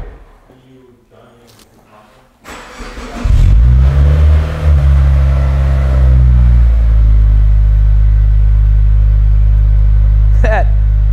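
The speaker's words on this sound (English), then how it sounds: "Let's hear what just the catback sounds like." A car with a new catback exhaust system revs up after a quiet start, going into a loud, deep, sustained engine drone that holds steady for several seconds, with a short sharp squeak near the end.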